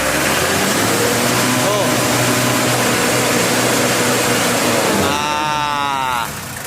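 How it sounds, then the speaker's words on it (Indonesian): A Mitsubishi L300 engine with a hard-starting, stalling fault is revved close by, running loud and rough with an uneven sputter, then the revs drop away near the end as someone talks over it. "Ini digas, berebet ini, guys."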